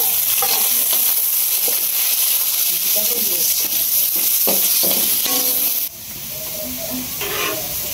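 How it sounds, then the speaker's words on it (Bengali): Onion and green chillies fry in a pan with turmeric, salt and chilli powder, a loud steady sizzle with stirring scrapes, fading down near the end as a voice speaks. "পেঁয়াজ কাঁচামরিচ ভাজা হয়ে গেছে এদিকে হলুদ লবণ মরিচের গুঁড়া আছে"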